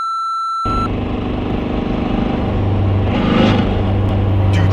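Truck with a 6.9 liter Cummins engine driving, its low engine drone rising and swelling as it pulls along, after a brief electronic tone at the start; no talking.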